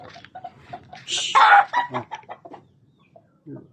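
Yellow-legged hatch chickens cluck in short, close bursts, building to a louder squawking flurry in the middle before trailing off into scattered soft clucks.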